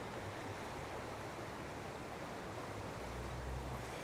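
Broad, steady rush of river water flowing along a river walk in Estes Park, Colorado, an even continuous wash with a faint low rumble, no voices.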